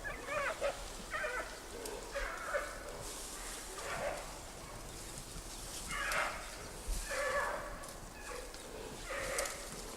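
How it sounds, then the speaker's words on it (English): Wild male giant pandas growl in several separate bursts, spaced a second or two apart, over a low background rumble. "From the growls, it's obvious the males will have no energy left for fighting, as Lulu does with the females in Wulong."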